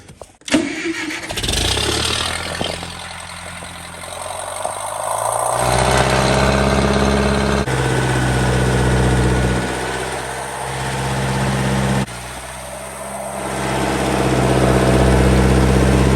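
An old tractor engine cranks and catches, then runs loud and steady close by, its pitch rising and falling as the throttle changes while it lifts a heavy load of about 350 liters.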